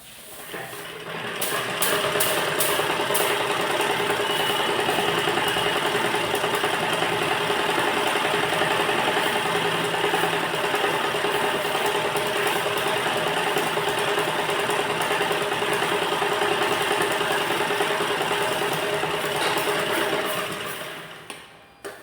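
A sewing machine stitches two pieces of net fabric for a blouse, running as a steady close mechanical hum for about twenty seconds before slowing to a stop.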